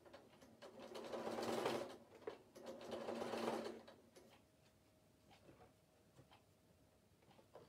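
A sewing machine stitches a zip in two close bursts of rapid whirring, each lasting over a second, then falls quiet with faint ticks and a soft hum behind.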